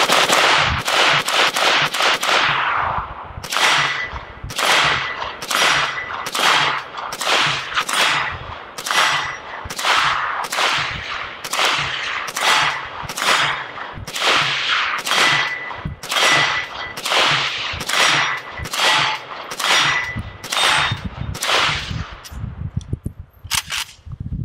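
Century Arms AK63D, an AK-47 variant, firing a long continuous string of loud, close rifle shots, first in rapid bursts and then in steady, evenly spaced single cracks, ending with a few scattered shots.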